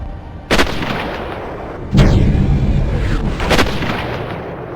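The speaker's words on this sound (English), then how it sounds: "we're being shot at by a sniper in some weird outside gravity place" A sniper fires in a Warhammer 40k video game, set outside a ship with gravity: two loud, close, booming shots a second or so apart, followed by a sweeping whoosh and a lingering rumble, no voices.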